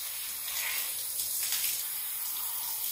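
Tap water runs steadily while rinsing conditioning product out of type 4 hair, a continuous close splashing hiss with no talking.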